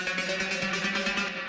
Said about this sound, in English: Found the tail from my pitch riser 7F.